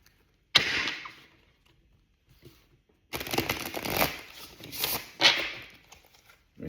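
A new tarot deck being shuffled by hand: two bursts of crisp riffling card noise, a short one and then a longer rustling run with a snappy finish, close and fairly clear.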